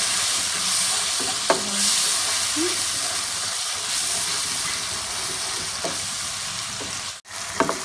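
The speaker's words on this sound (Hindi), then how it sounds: "अब ये हम इसको भून लेंगे अच्छी तरह से।" Soft, steady sizzling and hissing of chilies, garlic, turmeric and salt frying in a pan for shahi dal tarka, with a few light scraping stirs.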